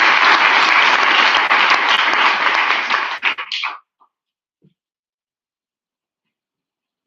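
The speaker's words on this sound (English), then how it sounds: "if everybody can please keep this energy and round of applause going for Mr." Applause for a speaker at a public speaking competition fills the room, loud and dense for about three seconds, then breaks up into a few scattered claps and stops. Near silence follows.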